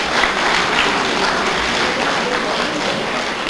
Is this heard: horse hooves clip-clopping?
no